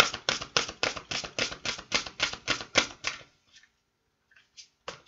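Tarot cards being handled and shuffled for a reading: a steady run of about a dozen quick, crisp flapping riffles that stops abruptly, followed by near silence broken by a few light card taps.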